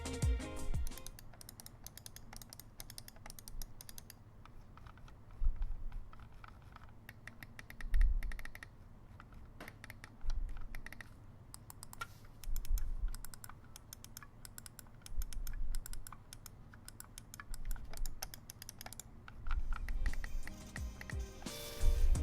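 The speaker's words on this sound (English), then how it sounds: "Razer is also known for their pleasant switches sound, as they are not as loud as some competing offerings." Quiet, rapid clicking of Razer Taipan gaming mouse switches, tapped repeatedly in uneven bursts with brief pauses, close and fairly soft.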